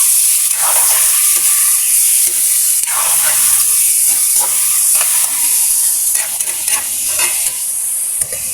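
Chicken pieces sautéing in hot oil in a pan for chicken sinigang, a loud continuous sizzle and hiss with intermittent scraping stirs throughout, no voices.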